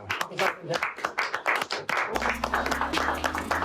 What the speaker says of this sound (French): Je pense qu'on peut peut-être les applaudir.